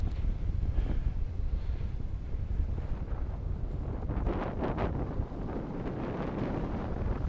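Steady, loud wind roaring across the microphone during a paragliding flight in a left crosswind along the Brittany coast near Pléneuf, a continuous rumbling buffet with gusty swells.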